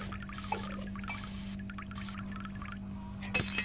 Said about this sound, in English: Yes, splash.